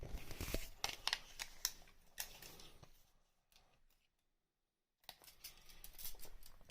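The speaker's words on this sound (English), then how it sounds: "let me get my tape measure" A tape measure handled during a tabletop miniatures game, with close clicks, rattles and sliding tape in short bursts, a quiet gap in the middle, then more handling.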